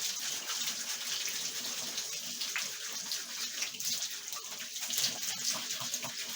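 Hot tap water runs continuously during washing, a steady close gush and splatter into a basin with no voices over it.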